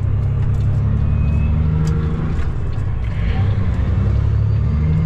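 A fully loaded semi truck rumbles steadily with a deep, continuous engine drone as it pulls out into traffic, loud and close throughout.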